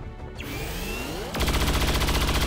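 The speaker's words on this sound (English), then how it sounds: "So probably just gonna fire away at that one Berserker over there." Rapid automatic gunfire aimed at a Berserker in XCOM 2 (War of the Chosen, PS4 Pro), starting after a sweeping whoosh and continuing as a dense, loud, steady rattle of shots to the end.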